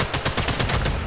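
A rifle shot in the World War II sniper video game Sniper Elite 5, loud and close with fast rattling reports through the short moment.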